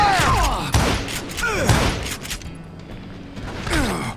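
Enemy gunfire during a camp ambush near Parachute, Colorado in Call of Juarez: Gunslinger, a few sharp cracks and thuds mixed with mechanical clanks and whooshing effects, with some speech-like sound.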